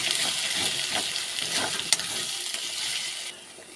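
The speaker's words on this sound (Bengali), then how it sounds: "এবার ভালো করে কষিয়ে নেব" Chicken sautéing in a pan with turmeric and chilli powder for chicken kosha: a close, steady sizzle with stirring and a sharp scrape or clink near the middle, cutting off abruptly near the end, with no talking.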